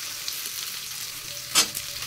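Onion goes into a hot pan with meat and whole spices, giving a steady sizzle with a short, sharp burst of frying hiss partway through.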